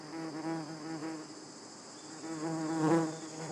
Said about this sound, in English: I've already got bees. Yeah, there we go, buzzing around me, something fierce.